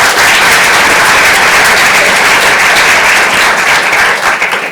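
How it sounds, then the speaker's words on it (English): A large crowd at the NYC Service Summit applauds loudly and steadily for Paula, a thick continuous roar of clapping hands that holds strong before starting to thin at the end. "Let's give Paula a round of applause."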